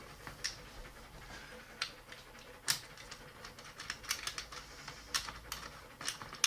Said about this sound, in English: That noise is my dog breathing in the background.